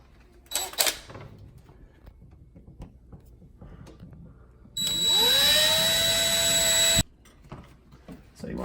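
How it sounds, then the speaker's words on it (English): A power drill pre-drills screw holes into a wall stud, giving one loud continuous whine of about two seconds up close, with quieter handling clicks and knocks before and after it. "we're going to actually pre-drill the holes first"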